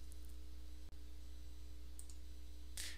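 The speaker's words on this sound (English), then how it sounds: "Just go ahead and double click on that." A computer mouse clicks sharply once in a quiet room against a steady low electrical hum, with a few fainter clicks and a brief hiss later.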